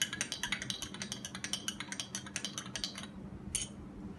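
Spoon stirring coffee powder into warm milk, a quick run of light clinking taps against the cup at a steady rhythm, close and fairly quiet, ending in a brief pause and one last tap.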